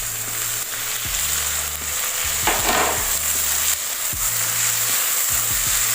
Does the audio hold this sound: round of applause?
no